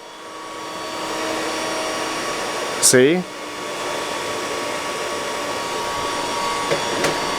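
A Bitcoin mining rig's cooling fans run at a reduced, quieter speed, giving a steady close whoosh throughout, while a person speaks briefly and a short squeaky sweep cuts through midway.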